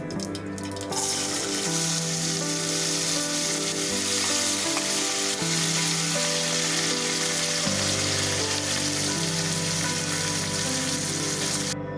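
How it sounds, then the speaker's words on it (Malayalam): Chopped vegetables fry in hot coconut oil with mustard seeds, a loud, dense, continuous sizzle close up with steady hiss and no talking. "അത് പൊട്ടിക്കഴിയുമ്പോഴാണ് പിന്നെ ഈ അരിഞ്ഞു വെച്ചിട്ടുള്ള പച്ചക്കറി എല്ലാം കൂടെ ഇട്ട് കൊടുക്കുന്നത് കേട്ടോ"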